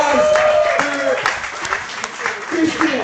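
Applause from the crowd at a 2024 Powerlifting America New Mexico State Championships session, steady clapping over about three seconds with an announcer talking over it.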